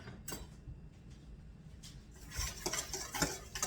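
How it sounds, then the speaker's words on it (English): Food for fried cod seasoned with anise being stirred in a bowl, soft intermittent scraping and clinks of a utensil that grow louder and busier toward the end, quiet and close. "now I'm going to stir this up very well."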